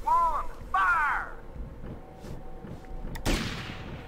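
Gunshots at a shooting range in the video game GTA Vice City, a sharp burst of fire near the end following chirpy game sounds, with a voice speaking over the start.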